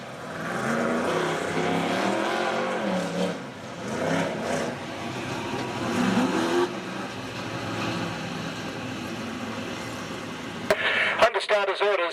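Outlaw sedan race cars at a speedway night meeting roar together as the field gets the green, a loud continuous engine din with rising revs under a commentator's voice.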